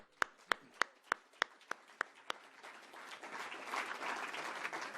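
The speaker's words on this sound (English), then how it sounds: "how about another great big round of applause for this morning's first panel?" A conference audience applauds a morning panel on super pollutants: a few sharp, distinct claps ring out first, then swell into broader, softer applause from the room.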